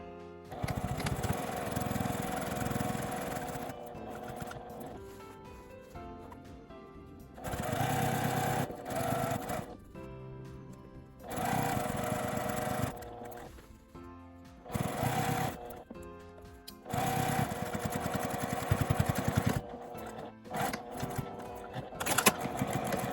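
A sewing machine sews a pocket onto a tweed tote bag in several bursts of steady mechanical whirring, each lasting a few seconds, separated by short quiet pauses.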